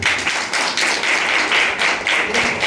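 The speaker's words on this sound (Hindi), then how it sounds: "ताली मारो।" Church congregation clapping hands together at a Sunday service, a short burst of rhythmic, fairly loud, evenly spaced group claps.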